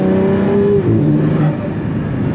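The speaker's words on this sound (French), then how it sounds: "Mec, le turbo, tu l'entends comme il souffle." A supercar under way, its engine droning loud and close with a turbo whooshing and blowing over the low growl, the pitch easing slightly as the car drives on.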